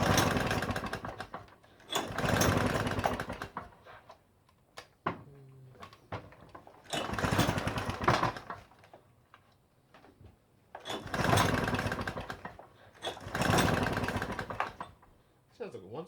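Classic Victa lawn mower engine, freshly restored, coughing into life in several loud bursts of a second or two each, separated by quieter pauses as it struggles to keep running, with brief speech between the bursts.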